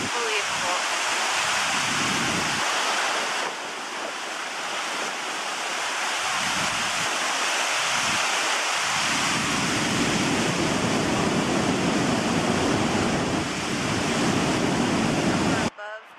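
Yellowstone's Lower Falls roars from above as the waterfall plunges into the canyon, a loud, steady rushing wash that never lets up, with wind buffeting the microphone at times.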